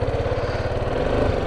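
A motorcycle engine idles close by in Kerala, India, a steady low throbbing putter that holds even for a moment with no voices.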